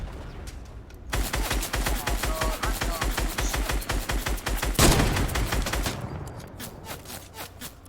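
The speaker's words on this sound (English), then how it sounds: "Are they shooting back at us?" Dense, rapid gunfire from a Fortnite match crackles continuously for about five seconds, with a sharp loud burst near the end, then stops abruptly into quieter game ambience.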